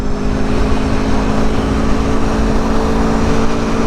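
A 2021 Aprilia Tuono Factory motorcycle riding at speed, a loud, steady engine drone with dense wind rush, continuous and close without clear revving peaks.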